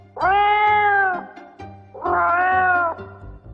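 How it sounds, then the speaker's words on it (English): An old cat, animated, lets out two long, drawn-out meows, loud and close, each a plaintive wailing cry of about a second, separated by a short pause with soft background music. "the donkey and dog meet an old cat on the road"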